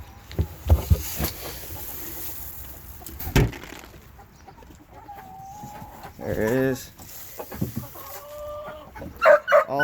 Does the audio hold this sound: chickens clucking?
yes